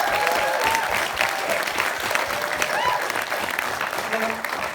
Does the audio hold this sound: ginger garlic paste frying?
no